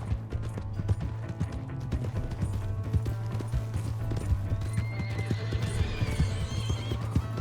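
A horse in Red Dead Redemption 2 whinnies over steady clip-clop hooves and faint mechanical clicking, with a loud neigh near the end and no talk.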